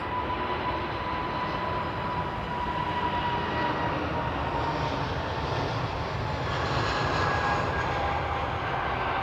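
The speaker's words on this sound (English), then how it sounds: "That's a dash 8, that one there, isn't it?" A Dash 8 turboprop airliner rumbles steadily at Runway 27R, its broad engine drone sustained and fairly loud with a faint propeller tone, no voices.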